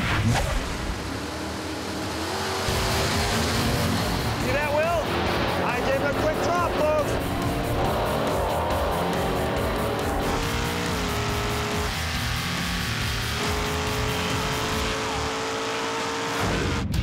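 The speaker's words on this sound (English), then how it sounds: "He's racing against Aaron Dondero in the 1970 Dodge Dart Swinger" A 1970 Dodge Dart Swinger drag races at Bandimere Speedway. Loud engine roar and revving fill the whole stretch, with tire squeal, while a voice talks over it.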